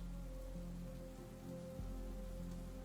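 Soft, steady rainfall forms a faint ambient backdrop for a fantasy tabletop role-playing session, an even hiss over a low droning hum, with no voices.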